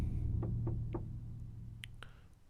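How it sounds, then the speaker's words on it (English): Late at night, three soft, evenly spaced knocks sound on a camper van, faint and muffled under a steady low hum, followed by a couple of brief higher clicks. "That was a knock?"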